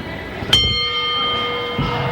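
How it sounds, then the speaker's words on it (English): A wrestling ring bell at a 1975 Saturday night wrestling match rings with one sharp, loud strike that leaves a sustained metallic ringing tone fading beneath arena background noise. "Well, there's the bell,"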